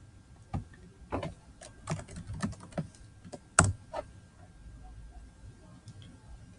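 Keys tapped on a computer keyboard, a close, sparse run of clicks at an uneven pace, with one sharper keystroke midway and quiet after.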